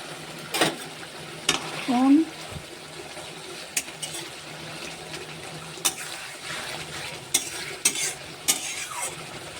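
Green and red chillies frying in mustard oil while being stirred, giving a soft, steady sizzle with scattered scraping clicks and light taps, close and fairly quiet.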